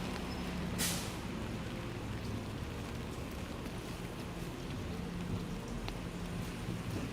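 Rain falls on a city street in Toronto on a wet afternoon. A soft, steady hiss of rainfall comes through, with a brief louder patter near the start.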